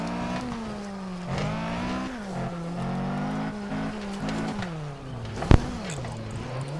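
Retro racing video game engine drone with shifting revving pitch and steady skidding texture, loud and continuous, with a brief sharp click near the end.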